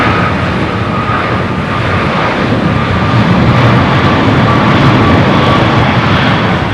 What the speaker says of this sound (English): What you're hearing is that American 777 had taken off.